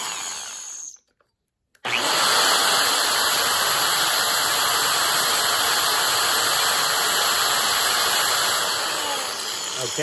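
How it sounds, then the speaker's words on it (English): A loud, steady power drill whines continuously after a brief pause, close and grinding, boring out a hole for a tuned pipe on a Traxxas Revo RC truck. "So right now, I'm going to drill out the hole."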